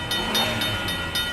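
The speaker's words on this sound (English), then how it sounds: "The train was coming closer. I could hear its bell ringing and the cry of its whistle." A train approaches in a radio drama, its bell striking in quick, regular clangs over a steady rail rumble, with a high whistle tone held underneath, close and fairly loud.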